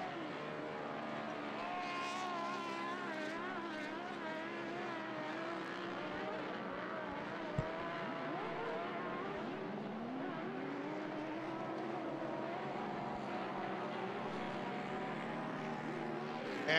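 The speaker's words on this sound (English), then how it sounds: "that definitely sounds like a sick UTV coming down right there" An off-road UTV race vehicle roars past at Glen Helen during a Lucas Oil Off Road Series round, its engine a continuous, fairly distant rasping drone with wavering pitch over a noisy outdoor background.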